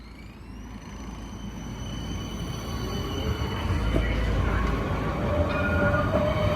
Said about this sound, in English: Now, by surprise, another tram appeared right around the corner.